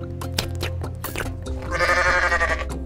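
A goat bleats in the video game Goat Simulator: one drawn-out, nasal bleat rises near the end, following a stretch of clattering in-game sounds.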